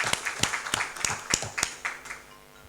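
Applause at the Ëttu Jàmm platform's extraordinary general assembly, heard as distinct, fairly rhythmic hand claps from a modest group, close and crisp, easing off toward the end.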